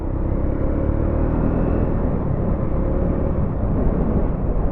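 A Triumph Scrambler motorcycle cruising in top gear gives a steady, loud engine drone mixed with heavy wind rumble, continuous and unbroken with no voices.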